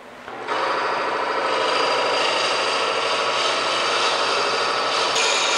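A 1 inch hole is drilled on a metal lathe with the bit fed from the tailstock, giving a steady, loud, continuous grinding cut that holds evenly throughout.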